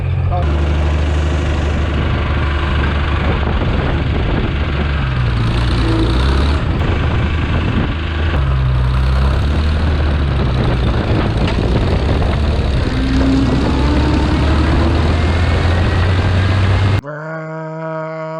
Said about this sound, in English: tractor noises, gas engine, 1960s power